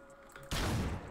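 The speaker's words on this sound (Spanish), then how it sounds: "le voy a dar con el disparo" A single loud blast erupts abruptly and rings out with a broad, noisy decay, a gunshot in the video game Hotline Miami 2, after a quiet stretch.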